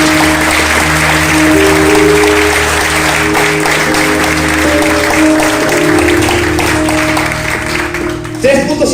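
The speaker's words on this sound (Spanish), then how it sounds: "Dale un fuerte aplauso." A church congregation breaks into loud applause after a sermon, a broad, continuous clapping that carries over sustained organ or keyboard tones and some voices, fading near the end.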